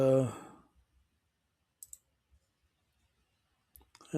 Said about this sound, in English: You can add one by simply clicking on the little plus sign